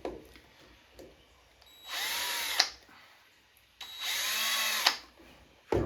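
A power drill whirs in two separate bursts of about two seconds each, high-pitched and close, drilling into a metal box for an arcade coin door, with quiet pauses between them.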